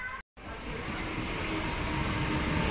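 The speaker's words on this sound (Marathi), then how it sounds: "आता आपली दादर जाण्याकरताची ट्रेन आलेली आहे" A Mumbai local train bound for Dadar arrives at a station, a loud, steady rumble of rolling carriages that continues after a brief moment of silence near the start.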